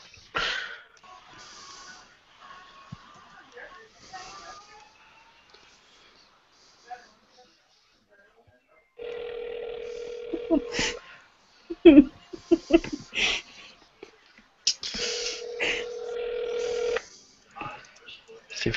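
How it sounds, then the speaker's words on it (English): An outgoing phone call on speakerphone produces two long, steady ringback tones about six seconds apart. People talk and laugh around the tones, and quieter voices fill the first half. "See if you hear his phone ringing during this live stream."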